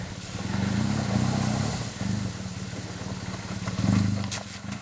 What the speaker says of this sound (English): I can hear Chris slipping some clutch here as well.